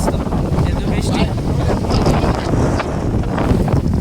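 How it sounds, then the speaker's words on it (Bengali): Strong wind blows hard at the coast near Shahpuri island, where dinghy boats sit in the rain, roaring as a loud, constant rush that batters the microphone throughout. "ডিঙ্গি নৌকা প্রচণ্ড বাতাস"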